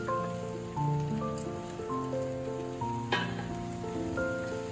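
Fried chickpeas and paneer tipped into sizzling masala in a pan give a steady hiss with a brief splatter, under soft background music.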